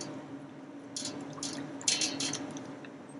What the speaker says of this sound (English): Stirring well.